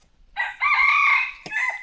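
A rooster crows close and loud in a quiet forest setting, one long drawn-out call followed by a brief click and a shorter trailing crow.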